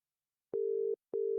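A steady electronic telephone ring tone, one long buzzing burst followed by a short pause and the start of another, clean with no voices.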